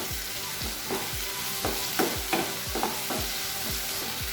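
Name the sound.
sautéing tomatoes for potato masala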